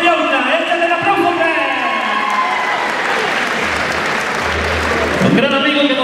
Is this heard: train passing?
no